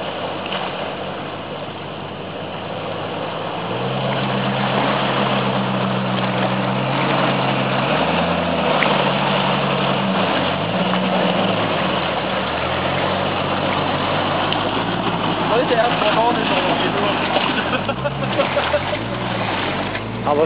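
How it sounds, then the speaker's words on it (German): A Jeep Grand Cherokee engine idles in a steady low rumble while the vehicle sits by a water-filled ditch, the tone rising and falling slightly as it runs on. "Standgas."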